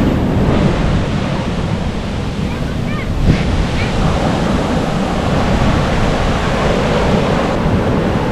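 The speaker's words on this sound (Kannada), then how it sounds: "ಆ ಕಾರಣಕ್ಕಾಗಿ ಇಷ್ಟೊಂದು ಅಲೆಗಳ ಅಪ್ಪರ ಇದೆ" Rough ocean waves crash on the shore ahead of expected rain, a loud, continuous roar of surf with heavy wind buffeting the microphone throughout.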